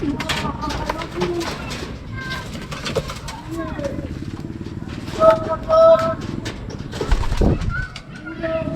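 Racing pigeons coo softly at close range amid other bird chatter, with a low engine rumble in the background, at a derby race.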